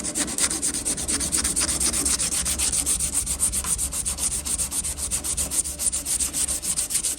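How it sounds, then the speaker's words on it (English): Sandpaper rubs across a plastic part from an FX32 taxi model kit, with steady, rhythmic back-and-forth strokes that are close and even throughout, and no talking. "Once you get a sandpaper, let's get this sandpaper, I'll show you what it looks like."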